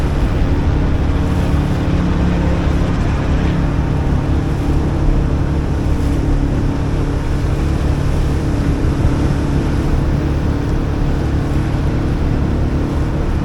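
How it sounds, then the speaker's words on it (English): A power boat runs alongside a 21-foot sailboat in turbulent water near New York City's Hell Gate, giving a steady, loud engine drone with water wash that holds constant throughout, with no talk. "which will be made a little bit worse by this power boat coming up beside us."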